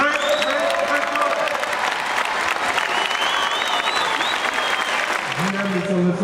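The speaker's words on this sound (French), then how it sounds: "On peut les applaudir, alors là on y va." Dense, loud applause from an audience honoring volunteers at a charity gala at a Zénith arena, sustained evenly throughout with voices and whistles mixed in near the end.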